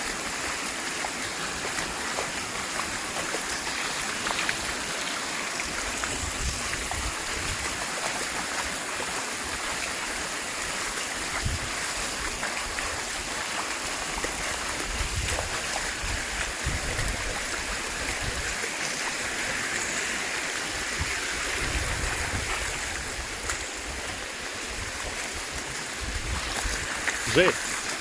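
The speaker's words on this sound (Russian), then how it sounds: "дороги это теперь реки" Floodwater rushes through town streets after a storm in Tuapse, a steady dense roar of flowing water with constant splashing that fills the whole stretch without letting up.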